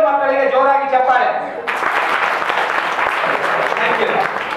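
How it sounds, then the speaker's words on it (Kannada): Two children at a magic show get a burst of loud audience clapping that cuts in sharply after a voice and carries on dense and even to the end. "ಎರಡೂ ಮಕ್ಕಳಿಗೆ ಜೋರಾಗಿ ಚಪ್ಪಾಳೆ"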